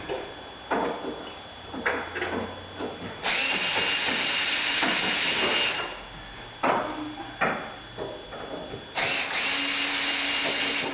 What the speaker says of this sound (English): clips on the back, so I just need to unscrew this one